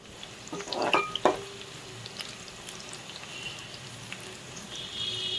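Onions and mint sizzle in hot oil in a pan for chicken mandi, a soft steady frying hiss broken early by a couple of sharp clinks and scraping stirs, then settling into a quiet continuous crackle.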